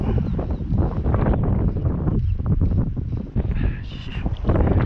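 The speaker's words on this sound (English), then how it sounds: "Wind blows by the line all over the place." Strong gusty wind roars past the microphone outdoors on a tough windy day in Florida, a loud continuous buffeting rush with a voice faintly audible underneath.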